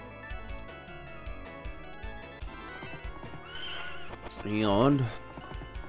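A horse whinnies loudly near the end, preceded by busy sounds from the 1991 arcade game Knights of the Round and thudding hooves, with a brief spoken word early on.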